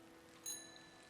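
A single bright bell chime rings out in the video game Season: A Letter to the Future, with a clear struck onset and a thin, sustained ring fading over a second against quiet ambient background.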